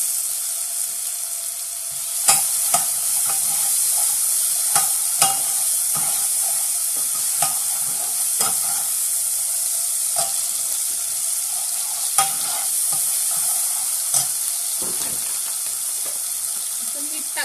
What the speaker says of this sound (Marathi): आता लसूण फेटायचा तो टाकायचा. ठीक आहे, थोडासा टोमॅटो टाकायचा.